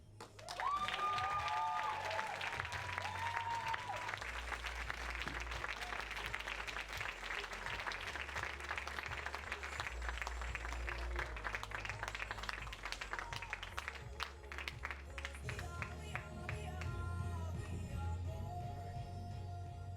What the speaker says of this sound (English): can we just have another round of applause, please?